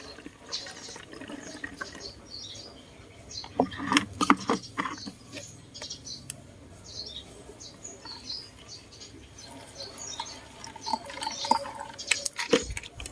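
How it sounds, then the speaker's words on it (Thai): Soap water that has been dissolved beforehand is poured into a spray bottle, followed by plain water. The liquid pours and trickles in short, near bursts, and faint birdsong chirps in the background. "เทน้ำสบู่ที่เราละลายไว้แล้วค่ะลงไปเลยนะคะ แล้วก็เติมน้ำนะคะ"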